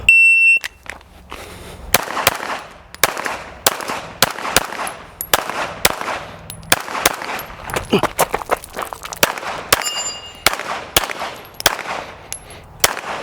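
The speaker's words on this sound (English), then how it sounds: "We're gonna step in, shoot 10, drive out, shoot another 10." Pistol gunshots during a practice stage at a shooting match, with targets from about 10 to 20 yards; a rapid string of sharp, loud, closely spaced cracks rings out with short pauses, and brief talk is heard in between.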